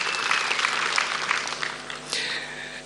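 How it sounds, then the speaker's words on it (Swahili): A crowd at a Kenyan political rally claps for Musalia Mudavadi's presidential bid, a dense, steady patter of applause that swells and carries on, heard at a distance without talk over it. "Yeah, makofi kidogo. Feel free."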